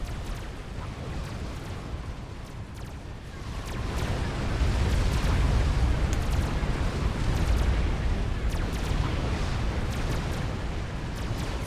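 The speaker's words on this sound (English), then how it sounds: "just sitting there taking outrageous amounts of T1 bomber fire" Explosions from tech-one bomber fire hitting wall sections in the strategy game Supreme Commander, a dense continuous rumble of blasts that swells louder after the first few seconds and holds steady.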